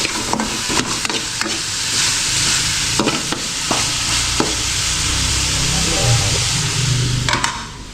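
Boiled mung beans stirred into a pan with fish sauce, a steady sizzle and hiss under repeated scraping strokes of a spoon, loud and close, with no talking.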